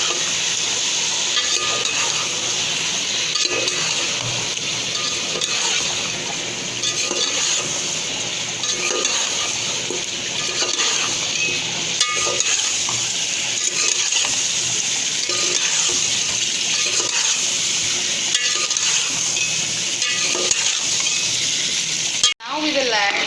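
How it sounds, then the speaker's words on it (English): Chicken biryani coated in homemade masala sizzles in a pot while being stirred, a continuous close frying hiss with scattered metallic scrapes and clinks, ending in a brief thump. "Now mix it."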